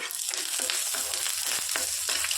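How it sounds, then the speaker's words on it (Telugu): Ginger, garlic and cashew pieces fry in a pan for a capsicum masala gravy, giving a steady, loud, close sizzle with several stirring scrapes cutting through the crackle. "మొత్తం వేయించుకోవాలి"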